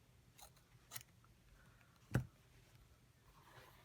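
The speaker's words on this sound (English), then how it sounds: "So I'm going to cut it straight down the center" A single crisp snip of scissors cutting through the yarn fringe of a crocheted cowl stands out against a quiet background, with a few faint handling rustles before it.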